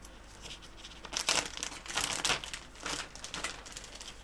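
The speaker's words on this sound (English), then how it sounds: "An enormous Ziploc bag." An enormous plastic Ziploc bag holding accessory parts for a Wingsy Kits Bf109E-3a model kit crinkles and rustles in bursts as it is handled close by, quiet overall with no talking.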